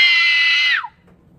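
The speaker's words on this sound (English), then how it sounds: "I'm going to scream out loud, really loud." A person lets out a loud, sustained high-pitched scream lasting under a second, the pitch dropping sharply as it ends, followed by quiet room noise.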